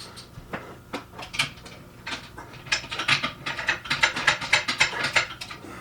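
Ratchet wrench tightening bolts on a clamp holding a workout pull-up bar, a close series of quick clicking ratchet strokes that grow faster and louder toward the end, with no talking.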